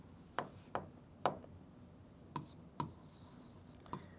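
Pen strokes and taps on paper while a maths solution is written out, a handful of quiet, sharp ticks and short scratches spaced irregularly over near silence.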